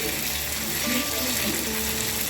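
Gola roti batter hits hot oil in a pan and sizzles in a dense, constant hiss at close range, with faint tonal hums running underneath.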